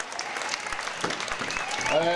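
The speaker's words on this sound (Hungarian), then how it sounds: "egy nagy tapsot" An audience at a Hungarian folk dance house festival claps steadily, a dense patter of applause that swells slightly toward the end, with a voice calling out over it.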